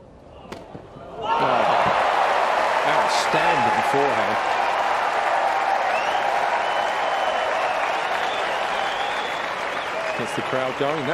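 Crowd applause bursts out after a tennis shot and holds loud and steady for about ten seconds, with a few shouts and cheers mixed in.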